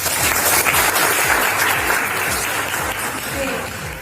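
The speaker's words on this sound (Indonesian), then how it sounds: "Tepuk tangan untuk kalian semuanya." A classroom of students and teacher burst into loud, dense applause, sustained clapping close by that carries on evenly for the full few seconds.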